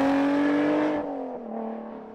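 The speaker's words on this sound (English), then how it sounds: "the noise from the supercharger is far more interesting than the trumpet sound that it makes" Supercharged Lotus Elise or Exige Final Edition engine pulling hard, a steady rising whine over the engine note that eases off midway and settles into a softer, lower tone, close and loud.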